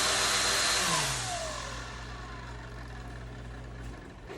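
An electric motor on a Minimoa model glider runs at full throttle, a loud close steady whine and drone whose pitch sweeps briefly at first and then holds, with nothing else heard.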